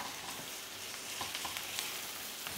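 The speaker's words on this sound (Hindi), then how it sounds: "कीमे को भी इस के अंदर मैं मीडियम हीट के ऊपर अच्छा सा फ्राई कर लूँगी" Minced meat fries over medium heat in a pan for qeema macaroni, giving a faint, steady sizzle with small crackles and light stirring throughout.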